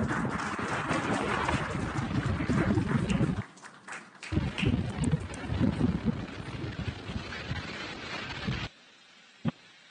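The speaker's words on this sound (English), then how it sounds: "We're throttling down the nine Merlin engines." Roaring launch of a SpaceX Falcon 9 rocket on the Axiom-4 mission, its nine Merlin engines producing a loud, rumbling crackle that cuts out abruptly, then near silence with a brief sharp sound.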